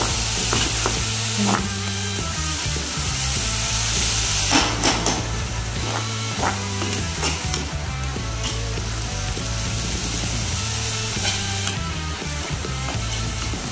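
Spinach for a horse gram gravy is sautéed in a pan, giving a steady, close sizzle. Intermittent scraping and stirring knocks sit over a low, constant background hum.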